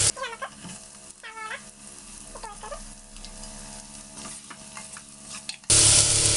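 Onion dropped into hot oil sizzling with mustard seeds, green chili, crushed ginger, garlic and curry leaves for a spicy prawn roast, a steady crackling fry with brief clinks and a sudden loud burst of hissing near the end.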